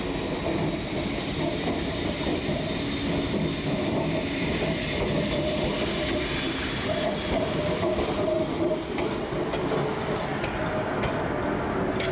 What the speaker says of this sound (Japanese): 間もなくして最終列車がやってきました。